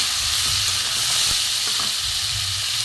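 Chilli, green chilli, cumin, coriander and pepper powders sautéing in hot oil for a cauliflower curry, producing a loud, dense and continuous hiss and sizzle up close with faint low knocks underneath.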